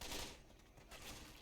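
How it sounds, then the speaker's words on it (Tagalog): Gunfire from a weapon in the Left 4 Dead 2 zombie shooter, a dense, rattling burst of rapid shots that runs loudly through the whole moment with no talk over it. "Bagong sound ng baril."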